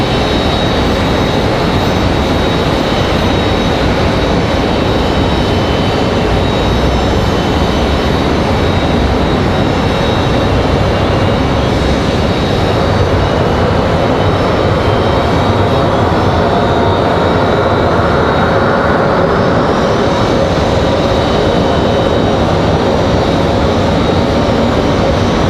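Delta flight 1337 arrives at Raleigh-Durham from Orlando, a loud, continuous jet roar filling the whole stretch with a faint whine sweeping upward near the end.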